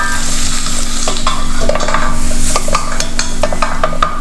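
Shrimp curry masala sautéing in oil for a Kerala shrimp and jackfruit curry, loud steady sizzling with busy metal spoon scrapes and clinks against the pan throughout, close up and without speech.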